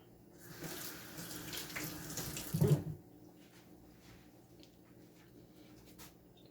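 Tap water runs into a kitchen sink while salt cod is washed, a steady splashing stream that swells near its end and then stops abruptly, leaving quiet room tone.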